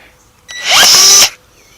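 A power drill drives a screw into a 2x4 board for a trellis, one burst of roughly 0.8 s with a whining motor rising in pitch, loud and close, and quiet room sound on either side.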